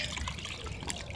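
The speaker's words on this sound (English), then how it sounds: "Some fresh, clean water in there for Pretty Bird." Fresh water trickles and splashes into a pet goose's bowl, a brief soft pour heard close up.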